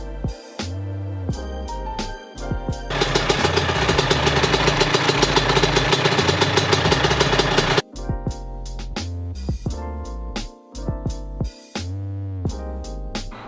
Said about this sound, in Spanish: yo lo que he hecho ahora ha sido subirle un poco el ralentí